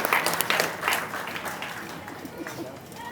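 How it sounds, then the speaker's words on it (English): An audience at a Juneteenth celebration applauds in a burst of clapping that gradually thins and fades, with crowd chatter and voices mixed underneath. "Give yourselves a big round of applause."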